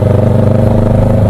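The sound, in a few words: Kawasaki 650cc parallel-twin big bike engine running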